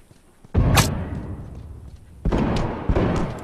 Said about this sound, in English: Throwing a nail bomb in.